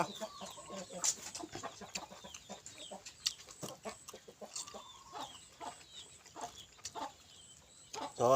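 Chickens cluck continuously near a rural Thai home, with dense overlapping clucks and scratching over a steady outdoor background, and a faint crow-like call at the end.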